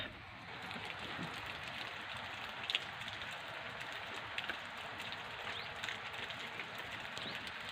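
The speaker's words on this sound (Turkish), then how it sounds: "Bu arada dışarıda çok güzel yağmur yağıyor." Gentle, steady rain hisses softly outdoors, with a few sharper drips and taps standing out now and then.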